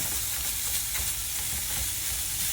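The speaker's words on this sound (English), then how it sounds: "we're gonna dump in our onions and bell pepper and garlic" Onions, bell pepper and garlic sizzle in a pan for homemade BBQ baked beans, a dense, continuous close frying hiss with faint stirring, no talk.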